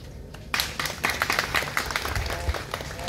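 An audience at an equestrian federation event bursts into applause, a dense, steady patter of many hands clapping that starts suddenly and carries on at full strength.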